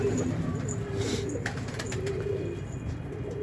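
A Mardin pigeon kept in Istanbul coos with low, soft repeated calls close by on a cold evening, with faint chirps and a brief wing flutter in the background.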